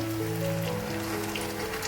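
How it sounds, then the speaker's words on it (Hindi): Water added to a pan of sizzling cooking spices for a meatball curry gives a steady, close hissing bubble with a faint tonal hum underneath, no speech. "थोड़ा सा हम पानी ऐड करेंगे"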